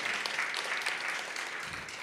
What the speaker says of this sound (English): Give yourself another clap because you are here.